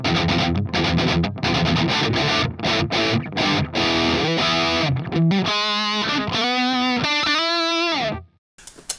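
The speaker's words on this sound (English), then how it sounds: "there was this, the MP-1, and this sounds like this" Heavily distorted electric guitar riffs chug through an ADA MP-1 tube preamp, thick and loud, then shift into sustained ringing notes before cutting off abruptly.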